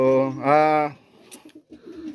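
Racing pigeons kept by a breeder give a loud, close, drawn-out coo at the start, followed by softer, low rumbling coos and faint shuffling.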